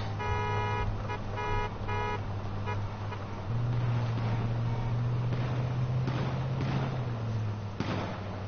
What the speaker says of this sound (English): We're all just honking horns.